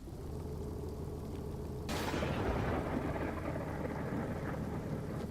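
A thunderclap cracks suddenly in a video-game lightning storm over northern Maine, then rolls into a long, rumbling tail that fades slowly, with no talk over it.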